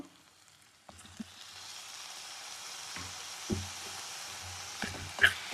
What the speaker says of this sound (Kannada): ಎಲ್ಲ ಚೆನ್ನಾಗಿ ಆಯಿಲಲ್ಲಿ ಫ್ರೈ ಮಾಡ್ಕೋಬೇಕು